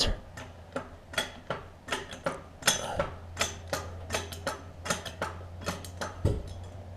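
Regular metallic ratcheting clicks, roughly two per second, come from a jack raising the engine of a 2002 Toyota Camry. They sound close and moderately loud over a low background hum, with no one talking.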